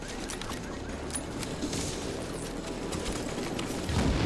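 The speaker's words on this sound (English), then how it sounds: "that explosion was too big for me" Explosions and bursts of gunfire in The Division's Dark Zone rattle on through the whole stretch, a dense crackling barrage with no voices.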